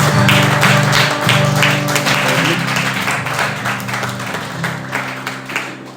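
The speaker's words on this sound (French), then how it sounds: "Applaudissons bien le Seigneur" A church congregation claps for the Lord during a French-language service, a dense continuous patter of hands with low sustained organ or keyboard tones underneath, loud and close, tapering slightly toward the end.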